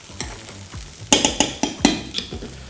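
Seabass fries fast in a pan over high heat, with a steady close sizzle under a quick run of sharp utensil knocks and clanks against the pan.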